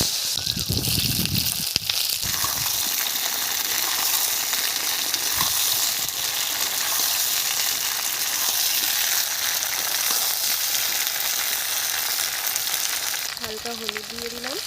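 Eggplant pieces fry loudly in hot mustard oil with nigella seeds and dried chilli, a constant close sizzle throughout, with a brief stir near the start and a voice talking over the end.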